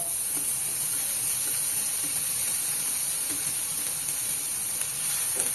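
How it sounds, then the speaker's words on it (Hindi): Sweet corn sizzling in hot butter in a pan, giving a steady, even frying hiss with faint crackles and no voices. "बटर हमारा अच्छे से गर्म हो गया है। यहीं पे मैं स्वीट कॉर्न को डाल रही हूँ"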